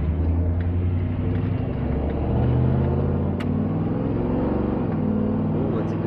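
Vehicle with a 4L80E automatic transmission missing second gear accelerating up to cruising speed, engine rumbling with rising, shifting tones heard from inside the cabin, moderately loud and continuous.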